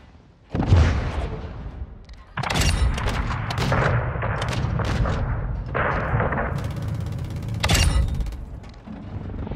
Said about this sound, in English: There we go, bombs away